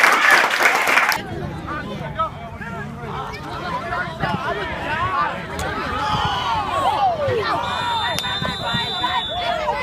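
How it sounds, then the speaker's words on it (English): Group applause for Sam at a PFL sports gathering, a loud burst of speech at the start followed by scattered, uneven clapping mixed with chatter and voices. "Let's give Sam a round of applause"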